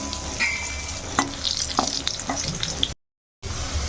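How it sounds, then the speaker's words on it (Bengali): Potato pieces deep-frying in a pan of hot oil while a Bengali fish dish is prepared, a continuous close crackle and sizzle with a brief dropout near the end before the frying resumes. "এই তেলের মধ্যেই এই আলুগুলো বেশ একটু ছাকা তেলেই ভেজে নেবো লাল লাল"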